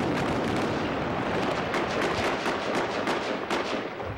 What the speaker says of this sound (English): suddenly the celebration stopped with the crackle of gunfire